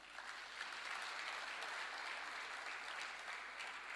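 A hall audience at the Thabo Mbeki Africa Day Lecture in Dar es Salaam applauds a girls' secondary school, with steady, dense clapping that holds even and sustained throughout.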